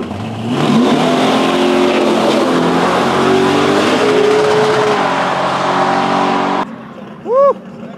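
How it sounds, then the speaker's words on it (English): A powerful big-block 1969 Camaro gasser with a Turbo 400 transmission roars hard as it accelerates down a drag strip, loud and sustained with rising pitch, then cuts off abruptly, followed by a brief whoop. "Let's see if we can rip it down the track."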